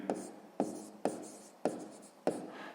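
Pen or pencil scratches across paper while working a sixth-grade maths exercise, five distinct strokes, each starting with a sharp onset and trailing off, close and quiet in a still room.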